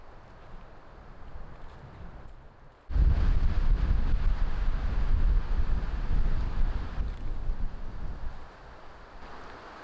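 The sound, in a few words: wind blowing by a forest lake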